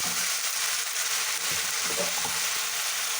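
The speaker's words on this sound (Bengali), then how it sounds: "তেল গরম হয়ে গেছে, ফোড়নে দেব গরম মশলা, জিরে, পেঁয়াজ," Garam masala, cumin and onion frying in hot oil for cabbage kofta, a dense, loud, continuous crackling sizzle with a few faint stirring knocks, close up and without voices.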